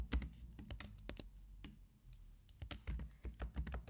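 Rapid, uneven keystrokes on a computer keyboard while entering values in an Excel spreadsheet, close and fairly quiet, with short pauses between bursts of taps.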